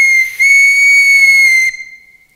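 A ship captain's shrill whistle blown to summon the household, one loud sustained high tone with a brief dip near the start, ending with a short fading tail.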